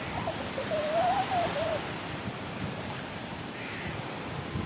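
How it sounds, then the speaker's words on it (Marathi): Rough sea surf at Bharadkhol Koliwada beach, a loud continuous roar of waves washing ashore with a crow cawing briefly near the start. "तुम्हाला दाखवतो इथे लाट बघा कसं उडलं जातं पाणी"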